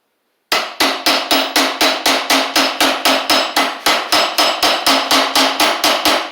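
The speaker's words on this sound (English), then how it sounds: "I could just tap the bolt a little bit." Steady hammer taps on a stuck bolt of a Huskee Supreme riding mower, about twenty loud, close metallic strikes in an even rhythm of roughly three per second, with no talking.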